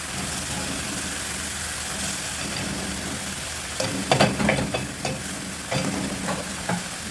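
Vegetables stir-fry in hot oil for a stir-fry with oyster sauce and chicken, giving a steady close sizzle with scraping and stirring bursts in the second half.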